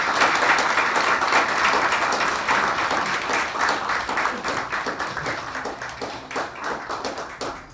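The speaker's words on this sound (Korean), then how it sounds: "뜨거운 박수 한번 주시기 바랍니다." Sustained, dense applause from an audience at a Korea University retirement ceremony and farewell lecture, steady and fairly loud throughout, slowly thinning toward the end with no talk over it.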